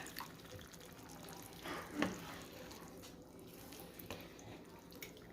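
Quiet trickling and splashing of water poured into a cooking pot, soft and close, with a brief louder gurgle partway through and no talking.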